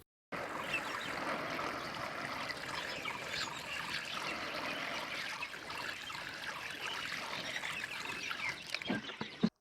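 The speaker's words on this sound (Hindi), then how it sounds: "अब देते हैं इन रूट स्टॉक में पानी" Water pours steadily in a continuous trickling stream into potted adenium rootstock plants for several seconds, with a few light splashes near the end.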